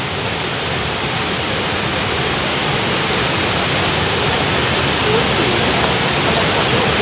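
A steady, loud roar of the Curug Ageng waterfall in Sukadaya village fills the whole stretch, dense and unbroken, heard up close.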